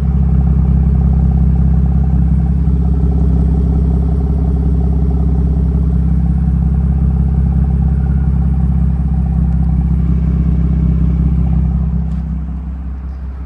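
A BMW F80 M3 idles steadily with its exhaust, a constant low rumble close by that stays even throughout and eases off slightly at the end.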